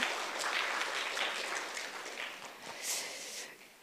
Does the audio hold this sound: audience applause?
yes